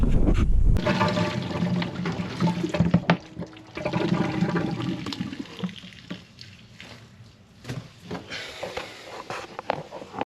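A camper toilet flushes as its small electric water pump drives a strong rush of water that gradually eases into lighter trickling and dripping.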